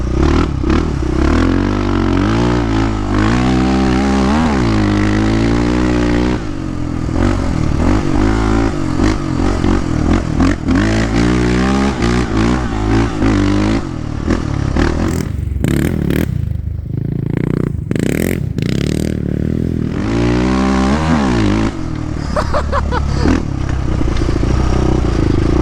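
A Yamaha Raptor 660 ATV engine revs hard while being ridden, rising and falling throttle pulls with rattling clatter, loud and close throughout with brief drops between bursts.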